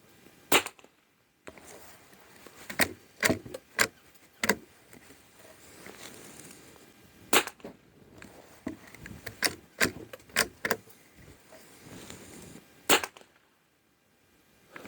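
A Norinco JW-15 .22 rifle fires CCI standard rounds outdoors, about a dozen sharp cracks spaced irregularly over the stretch, with quiet handling noises between shots and no speech.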